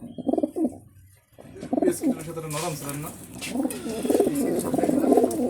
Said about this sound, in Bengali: ভাইয়ের কাছে অনেক কবুতর, সবগুলি একটু দেখাই দিই।